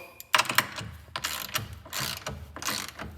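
A wrench loosens a live battery terminal on a power center, making sharp ratcheting clicks in short bursts, close up and moderately loud, with no speech.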